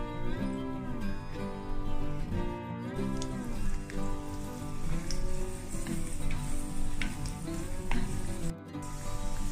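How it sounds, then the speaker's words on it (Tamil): Raisins and cashews fry in hot ghee for carrot halwa, giving a steady, close crackling sizzle that sounds like light rain and continues without a break. "கீ சூடானதும் எடுத்து வச்சிருக்க உலர் திராட்சை முந்திரி இதில் ஆட் பண்ணிக்கலாம்"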